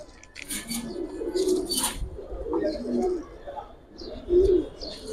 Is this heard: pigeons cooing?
yes